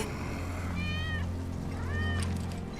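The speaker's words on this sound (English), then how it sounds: "That's Wedge's cat." A cat meows twice in Final Fantasy VII Remake, two clear rising-falling calls about a second apart over a steady low background rumble.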